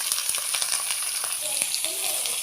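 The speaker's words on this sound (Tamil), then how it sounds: "இது நல்லா வணக்கணுங்க. அந்த பச்சை வாசம் போகிற மட்டும் நல்லா வணக்கணும்." Cauliflower, chopped onion and ginger-garlic paste sautéing in hot oil in a pan: a steady close sizzle with scattered crackles and pops of stirring, and no voices.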